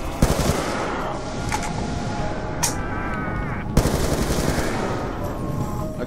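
Rapid AK-47 gunfire from the video game Call of Duty Black Ops 2 crackles in repeated loud bursts, with a short break partway before firing resumes.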